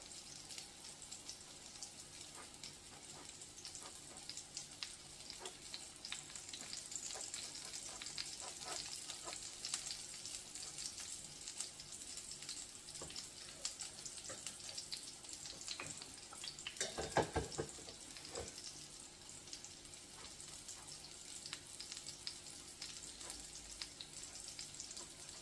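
A burger patty fries in a pan with a steady broadband sizzle that runs the whole time, and a brief louder burst of crackle and a scrape come partway through. No one speaks.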